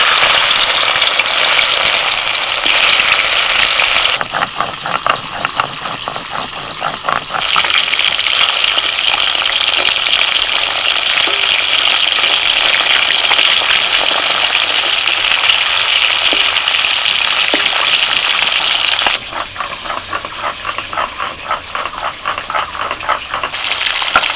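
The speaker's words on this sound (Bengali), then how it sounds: "মাছগুলোকে একটুখানি লাল লাল করে ভেজে তুলে নিচ্ছি" Fish fry in hot oil in a pan, a loud, continuous, close sizzle and hiss with bursts of crackling spatter that rise and ease over time, with no voices.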